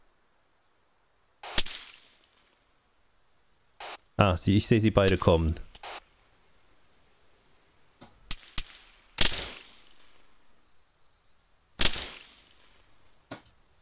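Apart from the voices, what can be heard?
gunfire in a video game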